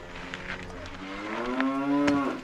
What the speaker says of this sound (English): Oh, we got cows at the hut.